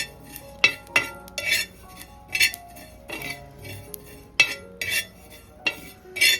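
Fennel seeds dry-roast on a hot tawa while a metal spatula scrapes and clinks against it in a series of sharp, close strikes and stirs, fairly loud, with no one speaking.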